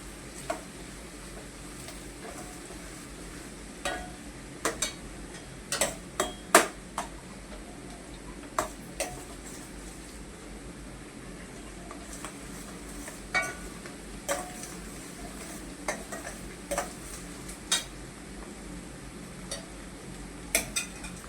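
Onions frying in a pan until browned give a low background sizzle, broken by sharp, irregular clicks and taps of a utensil against the pan, close and with no talking.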